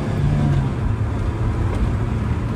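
Vauxhall VX220 sports car underway, engine note droning steadily with road rumble and a rising tone as it pulls through the gears, loud and close with no talk.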